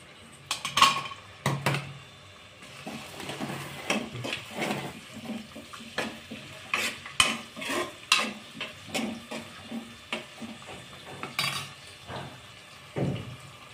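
Chopped onions and green chillies frying in a pan for a fish curry, with irregular stirring scrapes and clatter over a soft, steady sizzle, close by and moderately loud.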